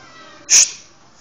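A house cat lets out a single short, loud meow close by, sharp and abrupt against a quiet room.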